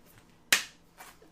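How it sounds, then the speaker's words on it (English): A single sharp clap from one person in an audience stands out alone, with a quick decay and a much fainter follow-up hit a half-second later. "Thank you for clapping."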